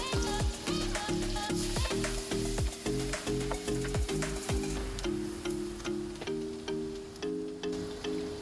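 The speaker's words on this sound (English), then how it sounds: "I'm going to let the onion cook for a little bit." Onion fries in melted butter and chicken fat in a pan, giving a steady sizzle under repeated scraping and stirring strokes, close by, with a regular tapping rhythm over a faint tonal hum.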